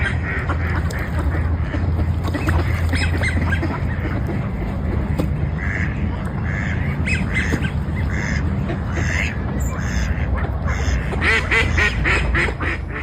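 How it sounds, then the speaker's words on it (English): Mallard ducks quack and squawk repeatedly at Beacon Hill Park in Victoria, British Columbia, a lively, overlapping chorus of calls close by over a steady outdoor background. "That was mallard ducks at Beacon Hill Park in Victoria, British Columbia"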